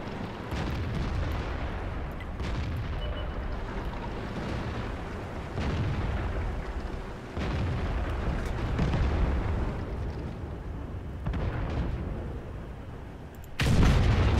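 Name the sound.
tank being destroyed in World of Tanks video game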